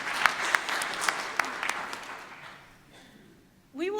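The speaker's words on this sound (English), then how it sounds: "Yeah, you can clap." A burst of applause from a church congregation with a few sharp claps standing out, fading away after a couple of seconds before a voice begins.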